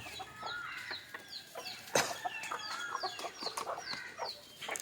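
Country chickens clucking in a farmyard in the morning, a busy run of short overlapping clucks with a louder squawk near the middle, close and continuous.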